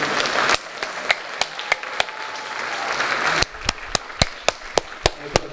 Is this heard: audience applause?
yes